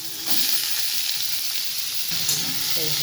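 Potatoes dropped into hot oil with five-spice seeds, the sizzle swelling suddenly and holding as a close, steady hiss, with a brief stir and clatter toward the end.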